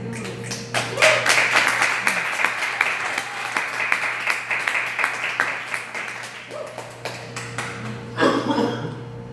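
An audience at a poetry open-mic night claps after a poem, a thick, continuous patter of many hands over a low steady hum, holding even for several seconds and then swelling briefly louder near the end.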